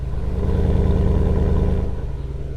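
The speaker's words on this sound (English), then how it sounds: "it still sounds like a V8." A Porsche Cayenne V8 engine runs steadily at close range, giving a loud, deep, continuous rumble with no clear revving, alone and without talk.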